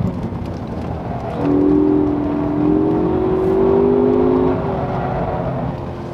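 A Ford Focus ST accelerating hard on a race track, a rising engine tone swelling mid-clip over steady road and wind roar, heard from inside the car.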